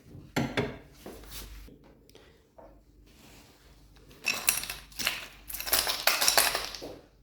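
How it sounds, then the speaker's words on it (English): Ice cubes clatter into a glass in several sharp, bright bursts, some early and a cluster of louder clinks near the end, with quiet handling sounds in between. "Keep the ice in the glass."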